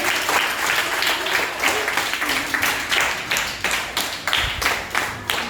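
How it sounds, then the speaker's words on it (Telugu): Schoolchildren at a rural Palnadu district government high school clap their hands together in a quick, steady round of applause. The sound is dense and close, with rhythmic bursts that swell and dip across the whole stretch. "చప్పట్లు కొట్టండి రా."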